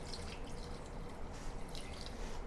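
Water poured into a cooking pot of chicken curry with potatoes in a pressure cooker, a steady faint splashing trickle throughout with no voices.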